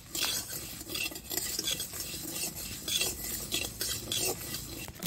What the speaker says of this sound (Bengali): প্রথমে লঙ্কাটা ভেজে লইছি, ধনেটা দিচ্ছি, একসঙ্গে দিয়ে দিচ্ছি।